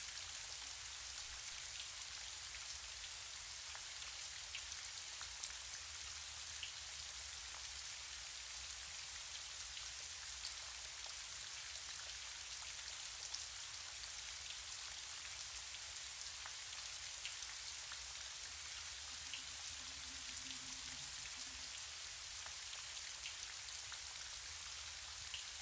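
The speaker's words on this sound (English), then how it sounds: "as you listen to the rain." Gentle rain falls in a steady, even hiss of many fine drops, soft and continuous with no speech or other sounds.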